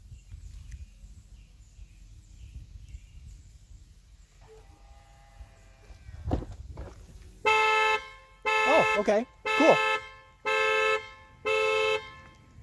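Tesla Sentry Mode car alarm blaring in five loud, evenly spaced honking blasts after a quiet stretch with a thud and brief rustling, while a person speaks briefly over it.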